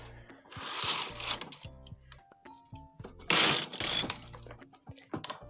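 A hand-operated knitting machine knits border stitches, its carriage sliding in clattering, ratcheting passes with pauses between strokes, close and fairly loud.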